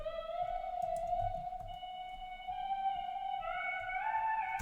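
Spacey vocal chop sample in a beat: a sustained, pitched vocal tone that glides to a higher note near the end, quiet over a faint low rumble, with no talking.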